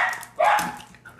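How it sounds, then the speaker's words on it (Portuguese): Dog barking nearby in a home during a Clash of Clans gaming session, a few sharp loud barks in the middle of the clip with a fainter one near the end. "Ah, meu cachorro fica latindo aqui, velho."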